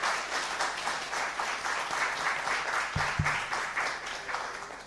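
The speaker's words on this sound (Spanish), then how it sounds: "Fuerte aplauso para el doctor Arrúa" An audience at an international congress on the Jesuit Guarani missions applauds Dr. Arrúa, a steady, moderately loud wash of many hands clapping throughout, with a couple of low thumps near the end.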